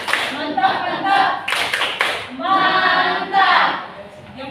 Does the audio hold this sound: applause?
yes